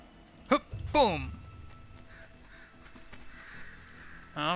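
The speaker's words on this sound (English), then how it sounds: "Oh, we got the crows." Crows caw a few times in the video game Night in the Woods, with a couple of sharp calls near the start and another at the end, over quiet game ambience and a player talking.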